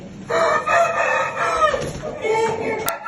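A chick calls loudly and close by with a few strained, drawn-out cries that rise and fall in a crowing-like pattern, ending with a brief sharp click.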